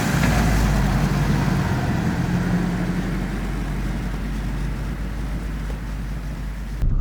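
A 1964 Citroën DS 19 Usine factory cabriolet driving, its engine a steady low rumble mixed with road and wind noise, continuous and close throughout.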